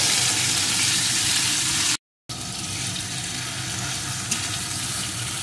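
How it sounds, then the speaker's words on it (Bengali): Chopped tomato and potatoes frying in an oiled pan for a vegetarian okra curry, a loud continuous hiss broken by a brief silent gap partway through. "এখন টমেটোটা দিয়েও আর একটু ভেজে নেব।"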